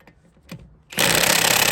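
After a near-silent pause with a couple of faint knocks, a 1,500 foot-pound impact wrench fitted with an Icon socket starts up loudly on a stubborn bolt during front brake pad work on a 2005-2010 Chrysler 300, hammering in a dense continuous rattle.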